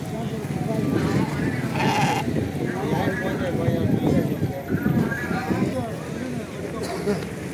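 Goats bleat amid a crowded outdoor goat market in Hyderabad ahead of Qurbani, a brief clear cry standing out over constant chatter and bustle of many people nearby.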